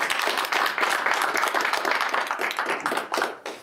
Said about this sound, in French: je pense qu'on peut rester dans le mouvement pour applaudir Amaury